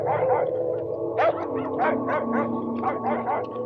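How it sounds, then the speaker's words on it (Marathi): Several dogs bark at night, repeated sharp yips in an irregular series at moderate distance over a steady background hum. "रातच्याला कुत्री बी लई भुकत होती"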